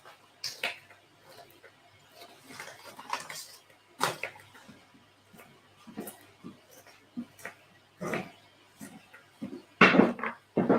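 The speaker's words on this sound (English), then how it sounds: "So I'm going to chop this up really thin slices" A knife slices through food on a board in a home kitchen while pizzas are being made, giving scattered, irregular taps and clacks of varying loudness with brief pauses and a sharper cluster of cuts near the end.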